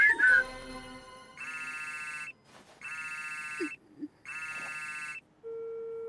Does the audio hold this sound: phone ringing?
yes